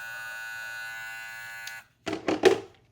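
A Von Da Goat Low Pro hair clipper runs with a steady, even electric buzz for under two seconds, then switches off, followed by a few short handling knocks and clicks.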